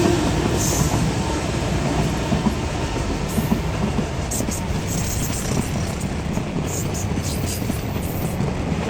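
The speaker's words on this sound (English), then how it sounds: "That means the train's gonna come by here any moment now." A train rumbles steadily past nearby in Japan, a continuous loud roar of wheels on rails with faint clicking, no voices.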